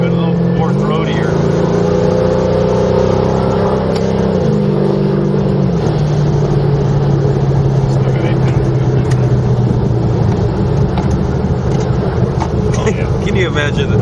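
A 1500 whp Camaro's engine drones and revs in a deep, sustained rumble that shifts pitch, heard loud and close under excited talking.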